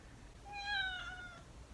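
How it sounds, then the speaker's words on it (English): Domestic cat giving a single drawn-out meow in a quiet room, soft and fairly close, rising then trailing off. "And the cat's about to walk by."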